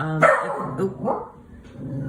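A puppy barks close by, one sharp bark followed by a couple of smaller yips and grumbles, loud at first then tapering off indoors.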